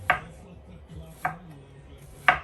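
A knife chops cauliflower on a cutting board for cauliflower rice, three sharp separate chops spaced about a second apart, close and fairly loud.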